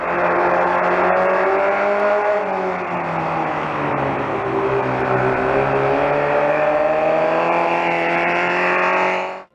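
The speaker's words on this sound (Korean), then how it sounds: "이 미니바이크가 스포츠 오토바이처럼 소리내는 게 매우 낯설게 느껴집니다." A Honda Monkey 125 minibike fitted with a custom single-crankpin four-piston 125cc engine runs continuously close by, its high, smooth sport-bike-like engine note holding steady and rising slightly in pitch as it laps, loud and alone throughout.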